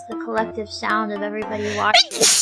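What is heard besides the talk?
sneeze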